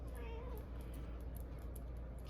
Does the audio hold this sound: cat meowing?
yes